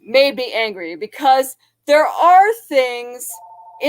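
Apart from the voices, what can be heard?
No everyday noise stands out behind the speech.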